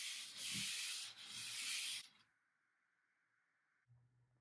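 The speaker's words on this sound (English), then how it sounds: "I did a little more sanding and I was ready for the final touches." Sanding on a wooden dresser being restored: two strong rasping strokes back to back, then quiet with a faint steady hum and a brief low thump at the end.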